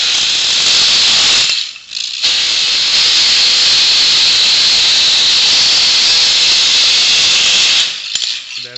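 A powered bone saw makes the anterior chamfer cut on a dry bone knee model, a loud, continuous high-pitched whine with a brief pause early on before stopping near the end.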